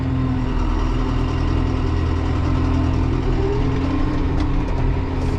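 A John Deere 6120e tractor engine drones steadily and loudly at a constant low pitch, heard from the cab while driving out to a field, with no talking.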